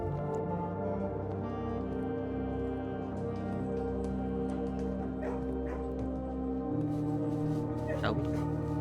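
Dogs barking and yipping in a kennel room in the video game Blue Prince, repeated barks and whimpers over steady droning game music, with a voice talking over them.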